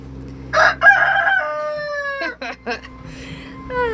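A rooster crows close by on a small farm, a long drawn-out call followed by shorter crowing bursts, with a low hum underneath.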